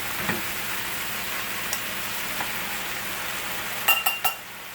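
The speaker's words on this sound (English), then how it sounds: "we're just hitting it with a little more heat and frying it a little bit more" A steady sizzle of quinoa frying in a pan, with a few metallic clinks of a utensil scraping near the end.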